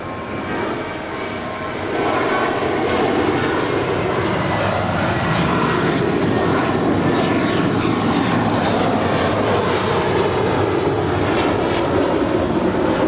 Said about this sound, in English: there she is, the 787-8 Dreamliner with Aeromexico coming in from Mexico City